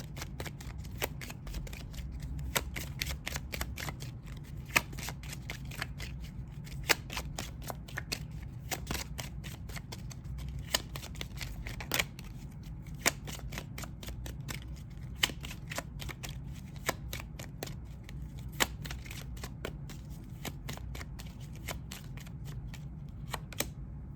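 Kipper oracle cards being shuffled by hand, a long run of soft papery riffles and sharp flicks in uneven bursts, close up and fairly quiet in a calm room.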